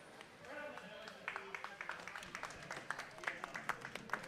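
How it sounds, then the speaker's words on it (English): Scattered applause rises in a warm room at a pizza league finals event, clapping building into a steady patter while a voice talks over it. "Applause in the warm room for those coming off of our Pepperoni fun."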